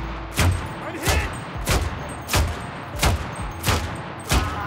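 Eight evenly spaced gunshots strike leg armour in Cuisine Royale, each landing as a dull, loud thud-like impact about every two-thirds of a second.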